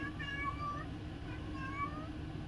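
A female cat in heat yowls in drawn-out, wavering calls, two long cries close by over a steady background hum.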